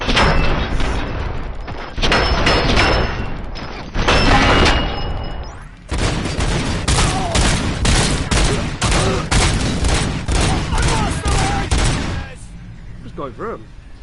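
Video game gunfire in Robocop Rogue City, as dense, loud bursts of automatic fire and heavy impacts roll on almost continuously for several seconds, then cut to a quieter stretch near the end.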